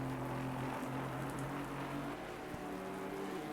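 Steady rain pours down in a sim racing game at Spa-Francorchamps, a dense, continuous hiss with a low engine drone beneath it, constant throughout with no voices.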